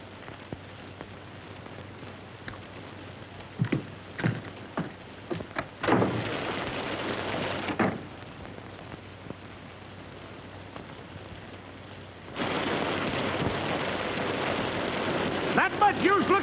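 A thunderstorm with steady rain hisses throughout, broken by sharp cracks and rolling thunder bursts, then the downpour swells louder and heavier near the end.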